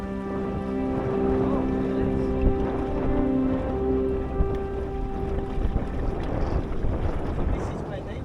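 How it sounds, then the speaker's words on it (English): Wind buffeting a microphone aboard a Drascombe Lugger sailing on the Irish Sea, heard as a steady rushing roar with water sloshing against the hull and a faint sustained tonal hum. "Finally, we found some wind and we were majestically sailing."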